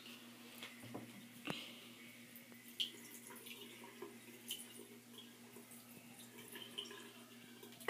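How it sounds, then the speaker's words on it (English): Water from a betta fish tank being dumped out, faint trickling and dripping with a few soft splashes and a steady low background hum, quiet and intermittent. "just dump some of the water out and put him in there very carefully"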